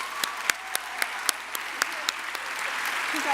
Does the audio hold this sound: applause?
yes